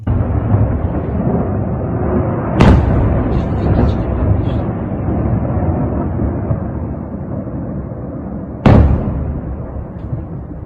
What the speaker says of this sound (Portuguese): Isso aqui é o barulho dos mísseis chegando lá em Dzhankoy